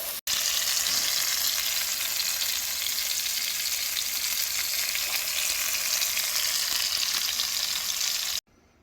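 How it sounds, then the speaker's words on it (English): Beef sirloin cap with crosshatch-scored fat searing in a pan, a loud, dense, continuous sizzle held at an even level throughout before it cuts off abruptly near the end. "And then we're gonna sear it."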